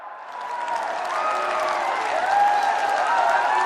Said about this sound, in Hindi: मैं चाहूंगी आप सब अपनी तालियों के प्रणाम से माननीय प्रधानमंत्री महोदय का स्वागत करें।